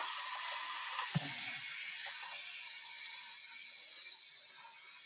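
Quinoa being rinsed under a running kitchen tap, heard as a steady hissing stream of water with a single soft knock near the start, close and fairly quiet, with no talking.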